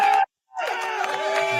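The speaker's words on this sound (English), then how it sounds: "It's the AI generated crowd" An AI-generated crowd sound effect of cheering and shouting voices, a short burst that cuts out briefly and then swells back in as a loud, close roar.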